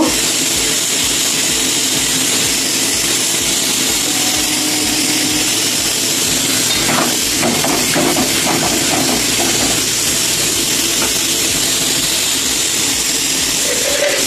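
A sweet chutney with cashews and raisins boils in a pan, giving a loud, steady, close hiss and bubbling that runs continuously.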